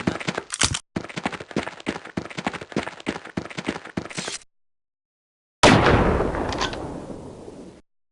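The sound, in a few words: gunshots in video game Half-Life Opposing Force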